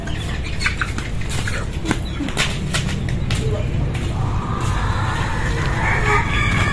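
Backyard chickens clucking with a rooster crowing, close by and fairly loud, with people talking over them and continuous outdoor background noise.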